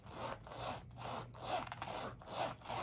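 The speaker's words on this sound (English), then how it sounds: "let's test the zipper on this one" Zipper on a small Louis Vuitton leather goods piece being pulled back and forth, a quiet rhythmic rasping in several short strokes, close and alone.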